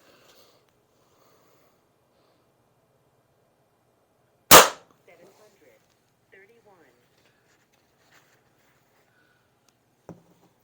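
A single loud, sharp report from an Aselkon MX7s subcompact bullpup .25 caliber air rifle fired indoors, standing alone amid near silence with faint sniffing and small handling noises afterward.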